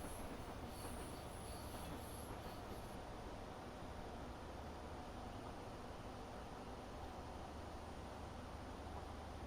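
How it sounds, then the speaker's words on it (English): An HST train in a railway simulator game runs on the down slow line out of London, giving a steady, loud rumble of wheels and motor with a thin high squeal early on and no speech. "We're going to get to hear that HST for a while"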